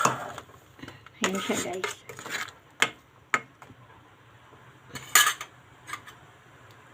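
A spoon stirring shrimp sinigang soup in a metal pot, irregular scraping and clinking bursts with sharp taps, while a person speaks briefly.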